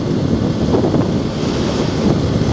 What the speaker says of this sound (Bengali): একেই ঠান্ডা, তার মধ্যে আবার চালাচ্ছে হাওয়া।